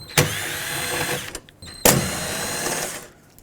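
A power drill backs out 7mm bolts from a 1997-2003 Ford F-150 door in two short whirring bursts, each opening with a sharp mechanical catch and ending in a brief pause, close and alone.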